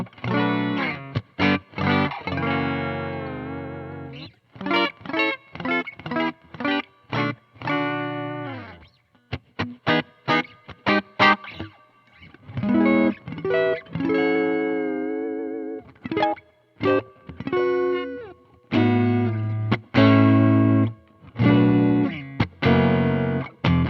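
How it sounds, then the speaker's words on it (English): Electric guitar on a basic clean tone, switching between neck and bridge pickups, plays short bursts of picked notes and ringing chords with brief gaps between phrases, close and alone. "Okay, that's our basic tones on neck and bridge."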